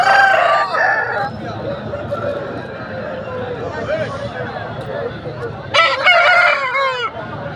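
A rooster crows loudly nearby at the start, with more crowing later, over a busy background of murmuring voices and chatter at a rooster market in Kavundhapadi, Erode, Tamil Nadu.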